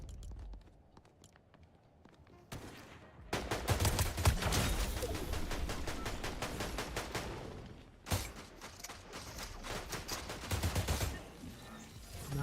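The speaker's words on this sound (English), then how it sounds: "we got shooting to the right" Video-game gunfire in a shooter match, rapid bursts of shots that keep going for most of the stretch with brief pauses, loud and close, with a voice talking in the background.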